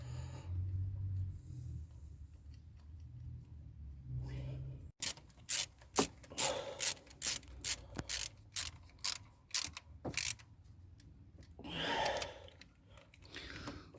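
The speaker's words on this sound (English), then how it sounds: "it's just a case of doing those 2 bolts up so they're nice and tight" A ratchet tightens the ignition coil bolts on a Rover K series engine, clicking in about a dozen crisp, evenly spaced bursts up close after a quiet stretch, with a soft breath-like rush near the end.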